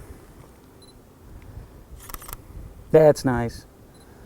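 A camera shutter clicks once, briefly, during a studio photo shoot with strobe lighting, and a voice speaks right after it. The setting is quiet, with only faint background noise.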